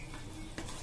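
Sweet vermicelli with sugar and a pinch of food colouring is stirred in a pan for kimami sewaiyan, giving a brief, close scrape with a soft sizzle beneath it.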